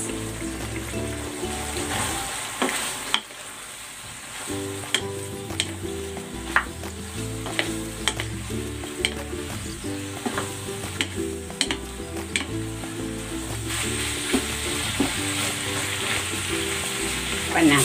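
Winged beans go into a pan of sizzling pork for Bicol express, setting off a loud, continuous fry with a brief dip before the sizzle builds again, broken by sharp clatters of stirring.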